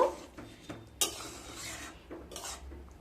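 A spoon stirring potato and soybean curry with ghee and garam masala in a pot, soft scraping strokes with a sharp metal clink near the middle, quiet and close.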